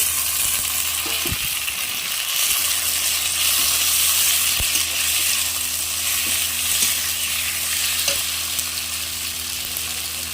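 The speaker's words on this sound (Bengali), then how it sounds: "যতক্ষণ আদা কাঁচা গন্ধটা না যাচ্ছে ততক্ষণ আমি ভাজতে থাকবো" Ginger and chopped tomato fry in a pan while being stirred for a spicy giblet curry, a loud, even hiss of sizzling throughout with a few scattered knocks of the spoon.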